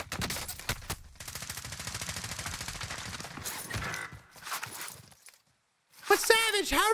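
Enemy gunfire in the battle royale game Warzone, rapid bursts of shots rattling through most of the stretch with footsteps mixed in, then a short silence before another loud burst at the end.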